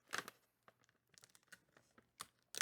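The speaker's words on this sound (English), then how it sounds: "When you have a tear spot and it doesn't tear enough for you to actually open it." A Planters cashews snack bag is torn open by hand in a few quiet, short ripping and crinkling bursts separated by brief pauses.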